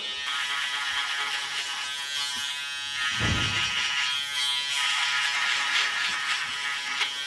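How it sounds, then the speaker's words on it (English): Electric shaver cutting hair during a side part skin fade, a steady high buzzing that thickens with a burst of low rumble as the blade meets the hair, then continues buzzing alone. "So I'm working the shaver up into the minis, or the trimmers, like so."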